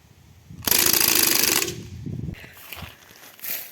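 A Crosman ST-1 automatic 4.5 mm air rifle with moving bolt fires a rapid burst lasting about a second, a loud rattling stream of shots that ends sharply, followed by quieter clicks and handling noises.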